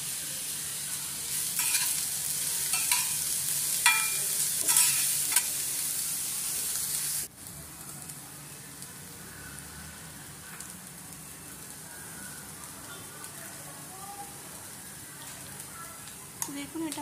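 Salted vegetables for mint pulao fry and get stirred in a pan, a bright crackling sizzle with scraping strokes that drops to a quieter, softer fry partway through.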